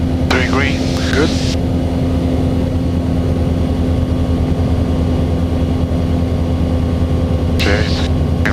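Twin engines of a multi-engine airplane on an instrument approach, heard from inside the cabin as a loud steady drone throughout, with brief radio or cockpit voices near the start and end.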